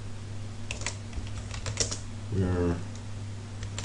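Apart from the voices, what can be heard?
typing on a computer keyboard into a text box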